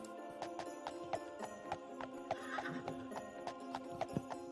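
Horse hooves clip-clopping in the game Daggerfall Unity, a steady rhythmic trot of repeated hoofbeats that runs without talk.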